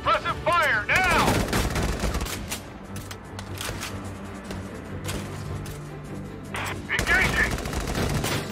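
Gunfire in the video game Valkyria Chronicles 4, bursts of rapid machine-gun fire and individual shots, loud and close, with brief shouted voices at the start and end.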